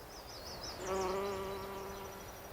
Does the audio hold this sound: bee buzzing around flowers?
yes